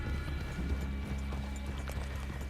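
Horses clip-clop along at a trot in the Red Dead Redemption 2 game, their hooves thudding steadily beneath a dense, constant layer of low ambient rumble and outdoor noise.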